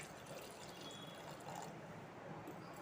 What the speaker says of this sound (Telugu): ఒక గ్లాస్ వాటర్ పోద్దాము